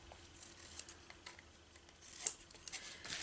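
Scissors trim paper cut from junk mail in a quiet crafting session, a few faint, close snips and rustles spaced over a few seconds.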